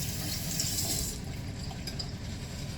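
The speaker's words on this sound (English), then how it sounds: "we're going to get our cloth wet with warm water." Warm water runs steadily from a tap onto a cloth at a sink, a continuous close hiss with a slight change in tone as the cloth is wetted.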